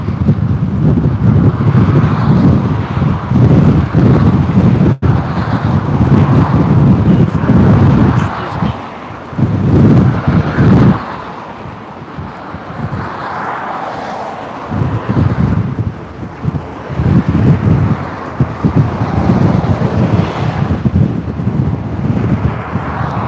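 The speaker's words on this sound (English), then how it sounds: "So much wind." Strong wind buffets the microphone on the Rostov-on-Don riverside embankment, a steady loud roar with gusty surges and brief lulls throughout.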